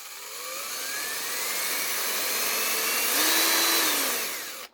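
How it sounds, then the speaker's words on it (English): A corded drill with a universal motor runs steadily, giving a loud, close, even whine that rises slightly in pitch near the end before cutting off abruptly. No one speaks. "an immediate difference you'll notice with the corded drill is the fact that it hums due to it using a universal motor"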